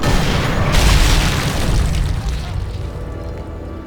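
A suppressed sniper rifle shot in the video game Sniper Elite 3 sounds as a dull booming thud with a long, broad rumbling decay that slowly fades over several seconds.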